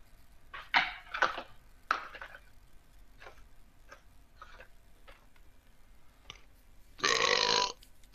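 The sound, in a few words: burp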